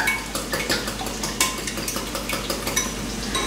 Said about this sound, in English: I'm gonna whisk them up a little bit.